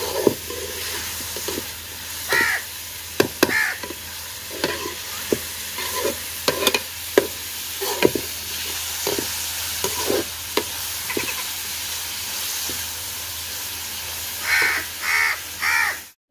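Onions fry in a pan in a home kitchen with a steady close sizzle, and a spoon scrapes and stirs in repeated knocks. Crows caw outside in the background.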